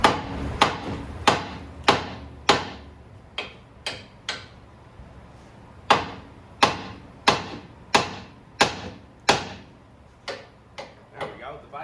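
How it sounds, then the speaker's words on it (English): Steel hammer blows on the steering knuckle of a Honda Accord to free a tapered ball joint stud, about sixteen sharp ringing metallic strikes in a steady rhythm with brief pauses, close and loud. "Now we are going to hammer on the steering knuckle, not the tie rod part."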